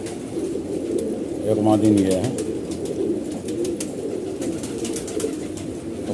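Malwai Punjabi and Madrasi pigeons coo steadily nearby, with one prominent rolling coo standing out early on, while someone talks over the flock throughout.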